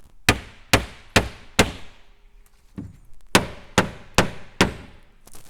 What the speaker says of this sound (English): We're just going to go back and forth, side to side, striking this panel until it loosens up all the way.